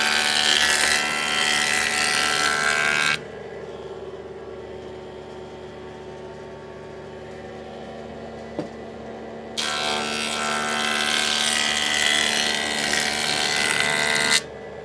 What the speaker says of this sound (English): Just run her through my joiner here.